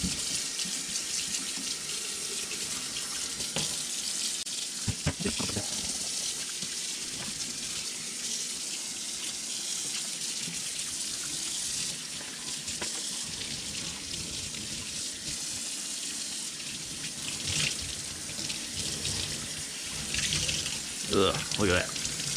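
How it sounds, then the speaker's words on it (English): Water runs from a tap in a steady, continuous splashing stream while a late-1990s or early-2000s HJC motorcycle helmet is rinsed, with occasional shifts and sloshes as the helmet moves under it, and a voice talks faintly at times. "Give us a good initial"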